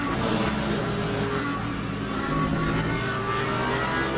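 Race car engines in Le Mans Ultimate, a GT3 sim race at Spa with Porsche, Lamborghini and McLaren cars, drone steadily and close, layered with a wash of tyre and road noise, no talking.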